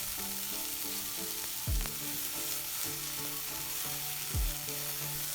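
Onions or shallots fry hard in a very hot pan for a Thai basil pork stir-fry, a steady close sizzle with repeated metal-on-pan stirring clinks and two sharp low thuds.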